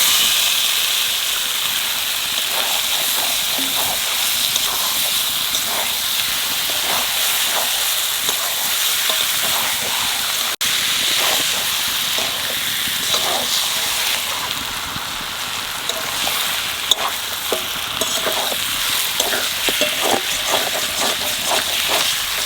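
Chicken meat sizzles in a pan of cooked-down masala for a spiced chicken curry, a loud, close, continuous hissing fry with crackles and occasional stirring, with no talking.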